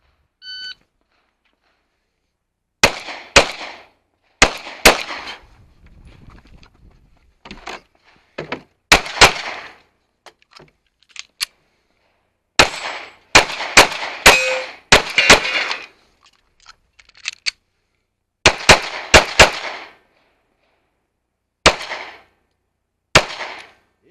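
Handgun fire on an IDPA competition stage during a backup-gun division match: loud, sharp shots in separate quick bursts of two and three, spaced by short silent gaps as the shooter moves between targets.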